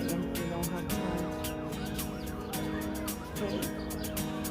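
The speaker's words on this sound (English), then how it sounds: "There are geese or swans swimming on the pond right there." Geese or swans on a zoo pond give loud, repeated honking calls in overlapping bursts, close and busy, over steady background noise.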